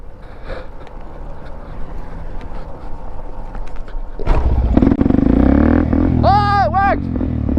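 A warm supermoto motorcycle being bump started: scuffing and rolling noise, then the engine catches and rises into loud revving bursts over the last few seconds, with people talking and breathing nearby.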